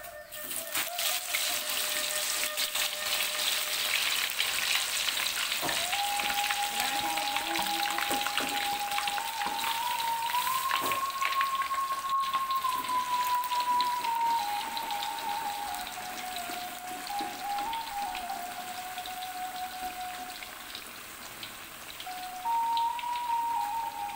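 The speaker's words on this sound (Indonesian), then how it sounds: "Minyaknya sudah panas, kita mulai menggoreng." Taro chips fry in hot oil, sizzling and crackling steadily with a soft, continuous hiss, while a faint high tone drifts in the background.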